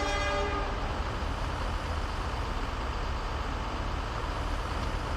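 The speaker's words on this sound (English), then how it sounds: "This is one that isn't the American train for once, and it smokes." A smoking train in Workers & Resources: Soviet Republic rumbles loudly and steadily throughout, with a brief horn toot at the start.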